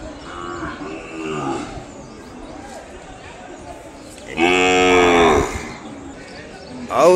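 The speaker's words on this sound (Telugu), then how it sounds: "ఒంగోలు జాతి ఆవులు కావాలనుకుంటే దూడలే తీసుకోండి" Ongole breed cattle mooing, one long, loud, close low moo standing out midway, with people talking and background noise of a cattle gathering.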